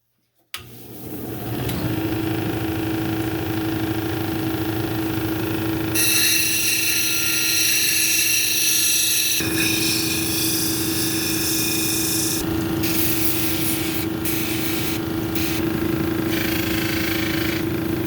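A lapidary grinding wheel shapes a porphyry cabochon, giving a steady, loud motor hum with a constant whine and a brighter grinding hiss that starts a few seconds in and runs on without a break.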